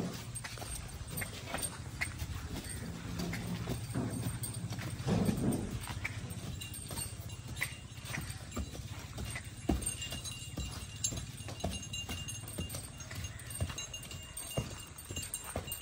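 A Pakistani horse at dance practice beats out uneven clip-clops and stamps with its hooves at mid distance, under a steady background rumble, with faint dog-like whimpers mixed in.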